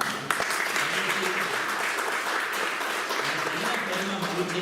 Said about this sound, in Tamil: நல்ல ஒரு கைத்தட்டு கொடுக்கலாம்